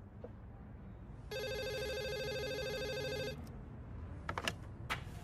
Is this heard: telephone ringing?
yes